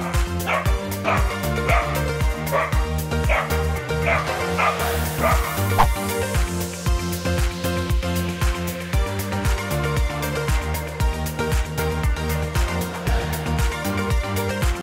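A Rhodesian Ridgeback puppy barks and yips at a volleyball repeatedly in quick bursts, close by, over steady background music.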